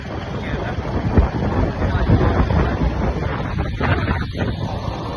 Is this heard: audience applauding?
no